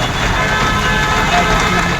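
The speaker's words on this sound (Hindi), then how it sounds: "मॉनसून की पहली बारिश ने शहरों को दरिया बना दिया है" Heavy monsoon rain pours down on flooded streets in Ahmedabad, a loud, dense, steady wash of water with a faint rumble underneath, continuous for the whole stretch.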